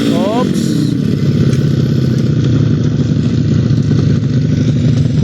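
Motocross motorcycles race around a dirt circuit at a competition in Balintawak, Kibawe, Bukidnon, their engines droning loudly and steadily, with a rising rev at the start and the crowd and voices mixed beneath.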